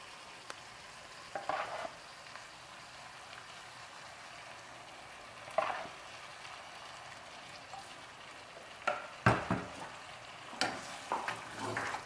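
Pork ribs in red chile cook in a pan over low-medium flame, giving a steady soft sizzle punctuated by a few louder scraping stirs and clinks, with no talking.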